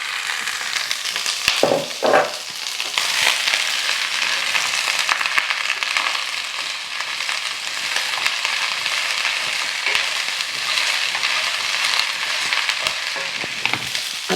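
Broccoli stems hitting smoking hot oil, a loud steady sizzle and crackle of frying that runs unbroken for the whole stretch, with a brief clatter of stirring near the start.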